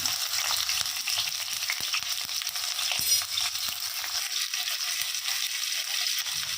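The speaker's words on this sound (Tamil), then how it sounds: "இப்போது நம்ம சின்ன வெங்காயத்தை சேர்த்திக்கலாம். இதை நல்லா வதக்கிக்கலாம்." Small shallots sautéing in hot oil for a village-style country chicken fry, a dense continuous sizzle close up with scattered crackles and stirring scrapes throughout, no talking.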